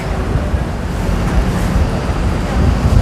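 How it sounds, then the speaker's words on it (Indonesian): Strong wind blowing outdoors, a loud continuous low rumble and buffeting against the microphone with no break. "Ini hari ini anginnya lumayan kencang."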